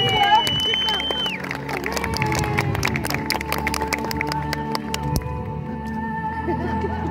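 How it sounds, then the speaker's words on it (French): Spectators at a medieval knights' tournament at Blandy applaud a knight, clapping blending with crowd murmur and a loud announcer voice over music-like tones, with sharp clap transients building in the middle. "On peut applaudir Monseigneur, s'il vous plaît."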